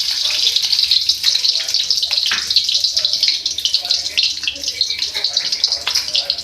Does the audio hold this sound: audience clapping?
no